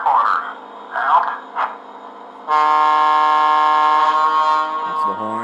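Horn of a Lionel scale GG1 model train locomotive blaring in one loud, sustained multi-tone blast after a few seconds of radio-style chatter, cutting off near the end.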